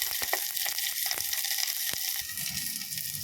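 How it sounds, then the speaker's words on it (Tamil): Crushed garlic and slit green chillies sautéing in a pan, a soft steady sizzle with scattered clicks and light scraping taps, close and moderately quiet with no voices. "கல் பூண்டு, 2 பச்சை மிளகாய் கீறி வச்சது எல்லாத்தையும் லேட்டாக வதக்கிட்டு"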